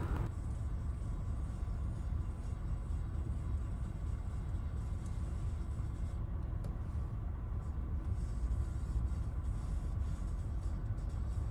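A car driving along a road gives a steady low rumble of engine and tire noise from inside the cabin, continuous and even, with no talking.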